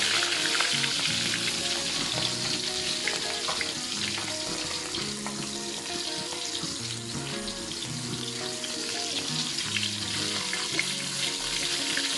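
Fish frying in hot oil, a dense continuous crackle and sizzle with running-water-like texture throughout, steady and fairly close, no voices.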